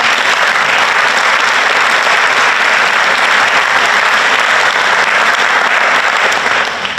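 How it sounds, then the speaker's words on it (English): A conference audience at a technical keynote breaks into sustained, dense applause that fills the room evenly for about seven seconds before beginning to ease off at the very end. "please, a round of applause for all of those who actually worked hard on it"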